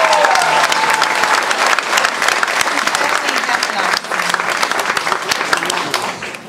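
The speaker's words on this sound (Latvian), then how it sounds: "tad arī sirsnīgi aplausi skolotājiem" Warm audience applause for teachers at a children's concert, thick continuous clapping from a large crowd lasting throughout, loud and steady.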